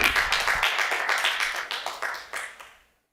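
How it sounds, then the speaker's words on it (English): A single person clapping alone at a Shelby County Board of Commission meeting, about a dozen sharp, evenly spaced claps that fade and stop after roughly three seconds. "The fact that even one person clapped is a success in my view"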